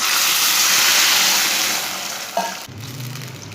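Water poured into a hot pan holding sugar and vermicelli for sweet seviyan, a loud broad rush that fades, with a brief splash and then a lower bubbling sizzle, no talk.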